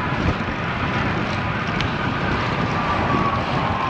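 Steady wind rushes over the microphone while cycling on wet trails near Atascocita and Huffman, a constant broadband roar with no talk.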